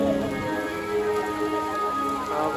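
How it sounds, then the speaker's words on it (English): Heavy rain pours down at a theme park during a Halloween event, a steady dense hiss of falling water on surfaces throughout, fairly loud and continuous. "It's still downpouring."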